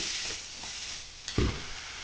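Chopped onion and tomato sizzle in hot oil for an egg curry, a soft steady hiss with a brief louder splash as the pieces hit the pan.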